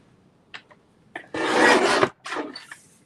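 A 4 3/4 inch piece of material is cut in a craft class: a few short, close scrapes, then one longer rasping cut and a final shorter stroke, with no talking.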